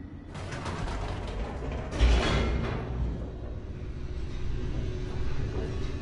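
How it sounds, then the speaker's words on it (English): An elevator in The Stanley Parable descends with a low mechanical rumble, ratcheting and grinding like gears, and a louder clank near the start before it settles into a continuous drone. "The elevator raced downward, plummeting towards an unknown fate."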